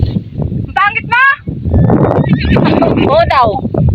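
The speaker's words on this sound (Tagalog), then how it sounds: "Nakita ang mga kabayo din eh." Nearby horses give loud, shaky whinnies, two short calls early and a longer one later, over rustling and hoof movement in an outdoor rural setting where people chatter.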